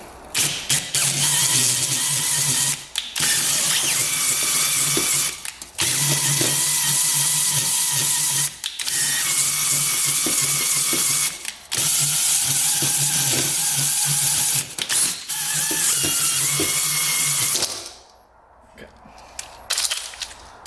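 A hone works inside an oiled dirt bike 2-stroke cylinder, a loud steady whirring grind in long bursts with short pauses, before falling quiet near the end.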